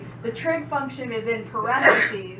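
A single sneeze bursts out partway through a math lesson on tangent lines with trig functions, loud and close, breaking into steady lecture speech that carries on around it.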